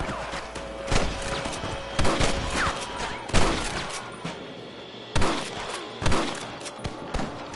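Gunfire in Red Dead Redemption 2, a series of sharp, loud shots about once a second, some doubled or clustered, each cracking out over a low bed of background noise.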